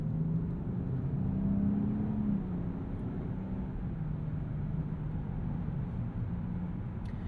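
A 2021 Land Rover Discovery with a 3-liter turbo inline-six and 8-speed automatic pulls steadily, a constant close engine and road drone with a slight rising whir.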